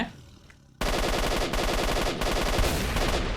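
Sustained rapid gunfire in S.T.A.L.K.E.R. Shadow of Chernobyl breaks out suddenly after a quiet moment, loud and continuous bursts with brief dips.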